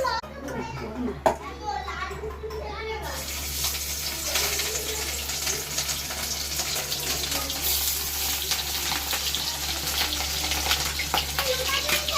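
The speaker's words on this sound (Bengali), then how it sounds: "প্রথমে আমি নুন হলুদ দিয়ে ভেজে নেব।" Fish seasoned with salt and turmeric fries in hot mustard oil in a wok with a sustained crackling sizzle that starts a few seconds in, while children chatter and play nearby throughout.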